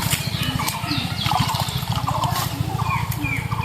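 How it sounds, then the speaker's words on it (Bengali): Water is poured into a container for mixing pesticide, a close splashing, gurgling pour with a rapid fluttering rhythm, and faint voices in the background. "পানি দিলাম"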